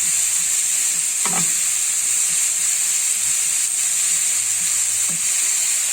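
Bacon frying in a pan with a steady bright sizzle and hiss that runs unbroken, plus a few soft clinks of stirring or turning, no talk heard.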